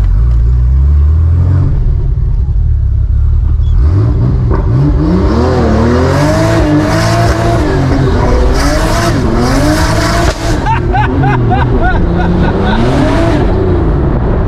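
A Porsche 911 930 Turbo engine revs hard and accelerates, a loud, close roar that climbs and falls through repeated surges with whooshing turbo bursts and crackles.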